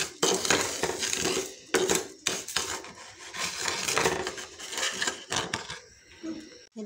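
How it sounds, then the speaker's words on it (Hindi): Sugar melting for a sesame bar is stirred nonstop with a spoon, producing close, rhythmic scraping and knocking of the spoon against the pan in repeated bursts. "एक तो चम्मच आपने मुसलसल हिलाते जाना है"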